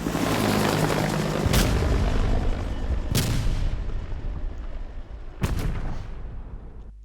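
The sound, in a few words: supply drop helicopter in Call of Duty Cold War video game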